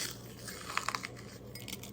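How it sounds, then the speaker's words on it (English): Charcoal pieces broken and crumbled by hand while potting a succulent, a few faint crunchy snaps and crackles close by, clustered in a short burst. "Break and crumble some of those, because I do like the smaller charcoal."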